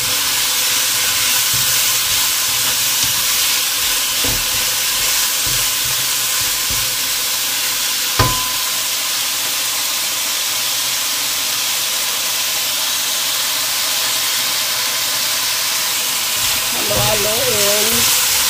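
Potatoes added to a frying pan of menudo set off a loud, continuous sizzle and hiss close by, with occasional clicks and stirring knocks and a brief voice near the end.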